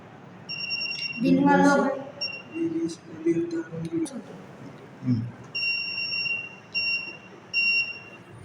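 A high electronic buzzer sounds in steady beeping tones, briefly at first and then in a longer run of repeated beeps, with someone talking over it.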